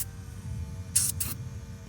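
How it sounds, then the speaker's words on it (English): Two quick hissing bursts of brake parts cleaner sprayed onto a car engine surface during an Acura RL solenoid leak repair, close and short over a quiet background hum. "Now I'll just clean surface here and here with brake parts cleaner"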